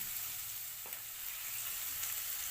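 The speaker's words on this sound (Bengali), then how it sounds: "তেল গরম হয়ে আসলে এর মধ্যে একটি পেঁয়াজ কুচি দিয়ে দিচ্ছি" Chopped onion and onion greens sizzle in hot soybean oil, a steady, even hiss with a faint clink near the start, close and alone with no voices.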